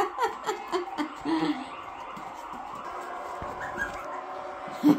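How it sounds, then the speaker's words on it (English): Maltipoo puppies whimper and yip in short, high bursts while playing, close by, with soft squeaks scattered through the clip. "Here's Serena's maltipoo puppies"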